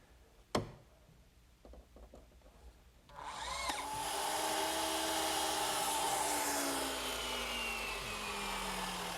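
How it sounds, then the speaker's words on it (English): A power drill drives screws into half-inch plywood, fastening down the bottom of a blanket chest in a woodshop: a few faint clicks and taps, then a loud sustained motor whine that slowly drops in pitch and runs steadily to the end. "We'll fasten it down with a few screws"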